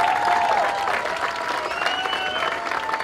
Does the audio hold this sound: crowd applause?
yes